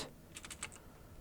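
A short run of about five computer keyboard keystrokes typed in quick succession while entering code, close and fairly faint against a quiet room.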